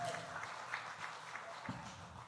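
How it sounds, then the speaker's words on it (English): Audience clapping at a church dessert auction, a steady patter of applause filling the room for a couple of seconds with a faint voice briefly underneath. "Let's give him a big round of applause."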